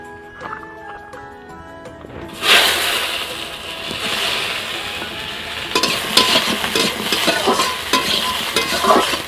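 Salted pointed gourd (potol) pieces dropped into hot oil in a wok, a sudden loud burst of sizzling after a quieter opening, then steady crackling frying with stirring clatter, close up.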